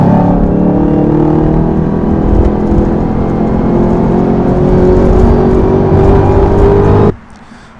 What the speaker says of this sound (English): Today's video, I'm about to make the ZL1 sound better than the Hellcat.